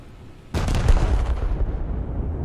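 Naval guns fire at cruisers and battleships in World of Warships, a sudden loud boom followed by a sustained rumbling roar with crackling bursts that slowly fade.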